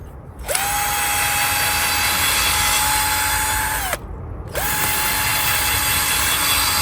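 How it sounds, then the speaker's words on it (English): A power drill whirs at a steady pitch for several seconds while drilling holes in potting soil, stops briefly, then starts again, loud and close with no talking. "you can literally use a drill"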